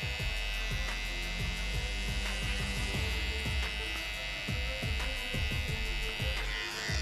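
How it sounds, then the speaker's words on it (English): Electric hair trimmer cutting hair for a women's faux hawk, a steady close motor buzz with repeated short tapping strokes as the blade meets the hair. "When I use my trimmer, I tap and swipe."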